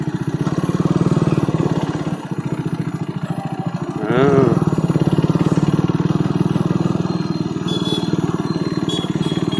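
A motorcycle ridden along a city road gives a steady, close engine drone with a brief rising rev partway through, under constant road and wind noise.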